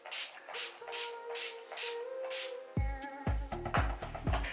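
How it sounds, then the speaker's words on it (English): A series of short, close hisses of L'Oréal Infallible makeup setting spray in quick bursts over a soft background tone, followed by several louder thumps and clatters. "just to set my face, I'm going in with the Infallible Fixing Spray"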